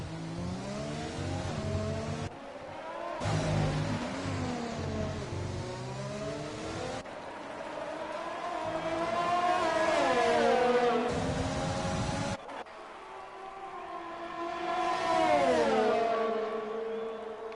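Williams Formula 1 car engine in an F1 racing video game at a Mexico race, a loud high-pitched whine that rises and falls through gear changes, with other cars' engines layered over it and no talk.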